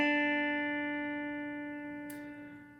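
Two sustained guitar notes from the opening of a riff, played with slide, ring out clearly and decay slowly, with a small scrape near the end.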